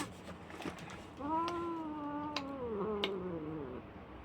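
A cat lets out one long, drawn-out meow that slowly falls in pitch, close and clear against faint background clicks and soft household noise.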